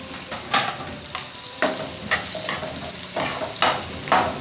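Reddened onion and a whole medium tomato frying in a pan for egg-potato masala, giving a continuous close sizzle with periodic scraping stirs of a spatula against the pan.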